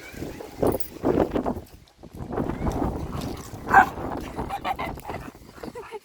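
A dog barks in short, scattered bursts, some loud and close, with thumping and scuffling noises in between.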